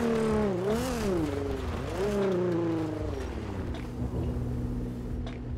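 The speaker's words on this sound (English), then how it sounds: "You might be able to hear the engine" A car engine idles and revs in the video game GTA 5, a loud continuous droning rumble with pitch rising and dipping early on before settling into a steady hum.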